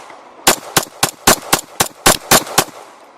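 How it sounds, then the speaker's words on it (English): A Glock 17 pistol is fired rapidly, a string of about ten sharp, loud gunshots in quick, slightly uneven succession at close range, with no talking. "The Glock 17 again on this final test of fast shooting 10 rounds"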